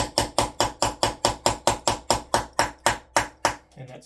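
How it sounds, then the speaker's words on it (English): A small brass hammer taps a guitar neck into place on an SG-style guitar, about fourteen crisp, evenly spaced knocks close up, followed by a brief scuffle as the tapping stops. "I'm going to take a little brass hammer."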